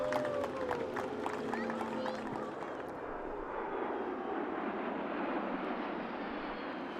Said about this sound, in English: as you can hear, that plane is not terribly loud